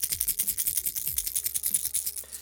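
Fast, dense rattling of a baitfish-pattern lipless crankbait shaken back and forth, many small bright clicks in rhythmic bursts, close and without speech.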